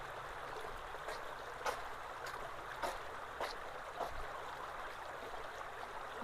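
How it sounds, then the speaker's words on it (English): A small waterfall spilling into a pretty little stream near a blocked culvert, a steady faint rushing wash with soft splashy ticks, heard alone from a short distance. "There's a little waterfall down there."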